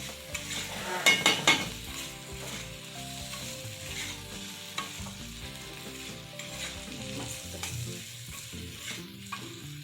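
Kadvanchi, a wild vegetable, sizzles and fries in a pan while being stirred, with a few sharp utensil scrapes and clinks early on over a steady, moderate frying hiss.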